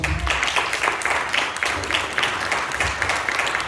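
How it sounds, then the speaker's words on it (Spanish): Congregation applause during a Spanish-language sermon in a church service: continuous, fairly loud clapping from a crowd, dense and even throughout with a slight pulsing texture. "Denle un aplauso"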